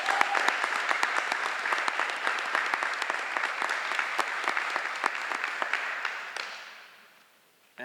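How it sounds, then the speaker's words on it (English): An audience at an eighth-grade recognition ceremony applauds inductees, sustained crisp clapping from many hands that thins and fades out near the end. "Give them another round of applause."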